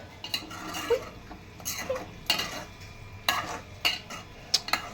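A spoon stirs and scrapes chicken curry in a metal pan, giving repeated clinks and scraping strokes at an uneven rhythm, close and fairly loud with a faint sizzle underneath.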